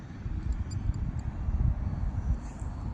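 An RC model Cub airplane flies at about 60% throttle, giving a steady, continuous low engine drone with wind-like rumble throughout and faint higher buzzing tones drifting in and out, moderately loud and without any talk.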